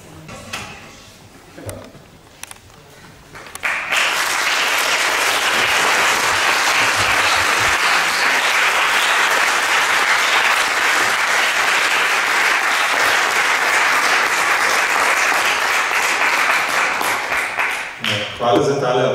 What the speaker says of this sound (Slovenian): Hvala za tale aplavz.